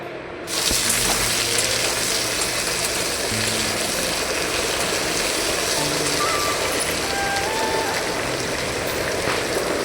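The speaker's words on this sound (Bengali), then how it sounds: "তো ভালোভাবে নাড়াচাড়া করে নিচ্ছি।" Tomatoes being stirred in a cooking pan, giving a steady, fairly loud hiss and scraping noise that runs unbroken for the whole stretch with no voices.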